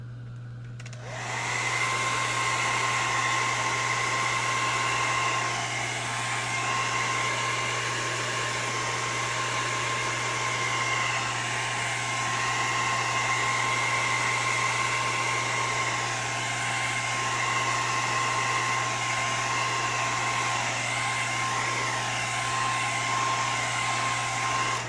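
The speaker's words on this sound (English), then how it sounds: "I'm definitely going to take a heat gun to it and kind of round this off a little more" A heat gun blows hot air to soften and reshape foam for an alien costume's shoulders and torso, a steady loud whooshing roar with a faint high whine that runs without a break.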